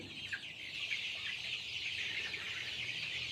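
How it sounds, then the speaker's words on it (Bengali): Desi chickens on a small rooftop farm, a steady chorus of soft clucks and chirps from many birds, fairly faint and continuous. "এটা আমার অল্প পরিসরে দেশি মুরগির ফার্ম, বাড়ির ছাদের ওপর।"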